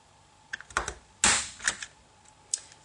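A hand paper punch notches a semicircle into the side of a card, making a few small clicks followed by one louder snapping crunch, then a couple more light taps, close and alone.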